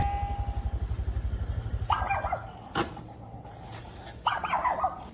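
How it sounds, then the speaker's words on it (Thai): A dog in Yala, Thailand barks in two short bursts a couple of seconds apart, following a rhythmic low putter of an idling motorcycle, fairly close and moderately loud. "ว่าไง เห่าเราทำไม"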